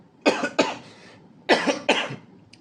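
Two pairs of sharp, close coughs, each pair a quick double burst, separated by a short pause.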